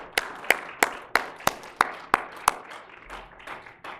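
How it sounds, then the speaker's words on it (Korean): At a church gathering, a congregation claps to thank the people who prepared the shared meal: about eight sharp, evenly spaced claps in a slow steady rhythm, then a softer scattered patter as it dies away. "뒤에서 수고하시는 애찬을 준비하신 분들께 감사의 박수로"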